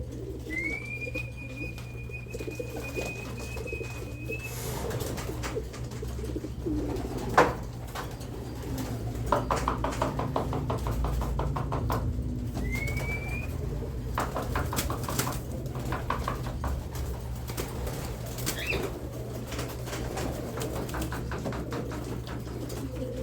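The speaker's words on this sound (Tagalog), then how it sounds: "Ang gaganda ng ibon." Pigeons at a loft give low, continuous cooing throughout, with a couple of brief high whistle-like notes and occasional soft flutters and knocks nearby.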